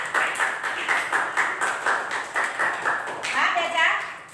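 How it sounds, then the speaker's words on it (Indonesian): Rhythmic class applause in an online lesson, a string of evenly spaced claps at a brisk, regular beat, with a voice briefly rising over the final claps. "tepuk tangan buat kalian semua"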